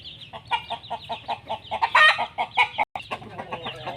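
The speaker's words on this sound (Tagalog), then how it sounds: "Ayan guys yung aking mga tigsas na sisiw." Young tigsas chicks and chickens clucking close by in a rapid, pulsing series of short calls, with a brief louder squawk partway through and a dense steady rhythm throughout.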